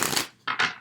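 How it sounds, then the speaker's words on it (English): Tarot cards from a Crystal Tarot deck being shuffled: a dense papery riffle for about a quarter second, a brief pause, then two more quick close bursts of card flicks, with no talking. "Let's shuffle a little more."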